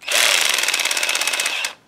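A Harbor Freight cordless drill whirs loudly for nearly two seconds with its clutch engaged, producing a fast, even ratcheting chatter close by that stops abruptly, with no talking.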